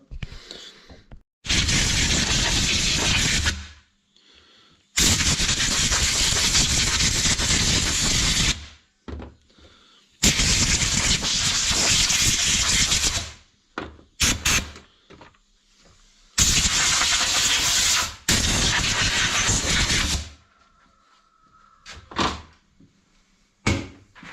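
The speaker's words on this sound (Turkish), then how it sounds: "Daha iyi görüntü olması için hava vuralım buna." Compressed air blasted in four long, loud hissing bursts onto a part of a chainsaw that will not fire, with short clunks and quiet gaps between blasts.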